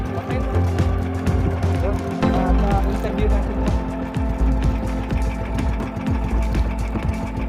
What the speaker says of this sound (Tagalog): Ano, i-stop mo muna, makina mo, ha.